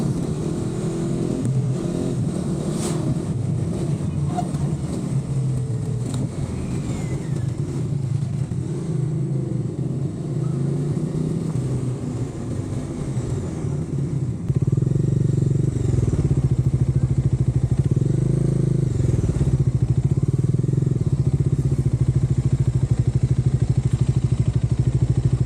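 Motorcycle ridden along a rough, potholed road in Kenya between Yatta and Nairobi via Machakos, its engine droning steadily and close throughout with road rumble and occasional clatter, no talk.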